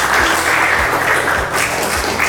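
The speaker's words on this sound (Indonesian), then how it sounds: "beri tepuk tangan buat kelompok 1" Classroom students clapping for a group, a short burst of dense applause at even loudness throughout, brief and close.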